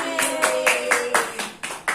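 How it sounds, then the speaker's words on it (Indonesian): Kindergarten-age children in an Islamic studies class clap together in a brisk, slightly ragged burst of about eight loud beats, close to the recorder and without any talking. "Beri tepuk tangan lagi."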